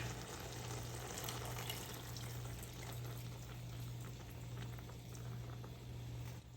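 Steady hiss of hot water pouring into a pot, with a constant low hum underneath; continuous and fairly quiet throughout, no voices.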